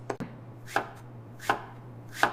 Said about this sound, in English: I'm chopping the vegetables.